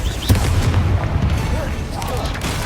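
A Confringo fire-blast spell exploding in Hogwarts Legacy combat: loud, continuous booming blasts and rumbling impacts, with a brief sharp crack early on, amid dense battle noise and a voice.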